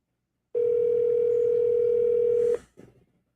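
An outgoing telephone call tone: one steady, clear electronic tone holds for about two seconds and then cuts off, followed by a short burst of faint noise.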